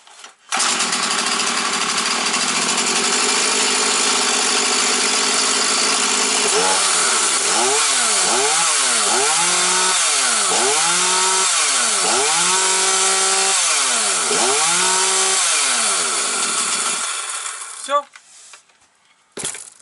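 A Husqvarna 240 chainsaw runs loud and close after starting, settling at a steady idle before being revved in a series of rising and falling throttle bursts, then cutting out near the end.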